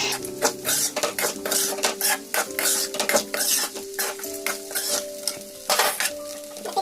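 Poha chitranna gets stirred in a pan with repeated scraping and clinking strokes of a utensil against the metal over a light sizzle, close and fairly quiet, with no talking.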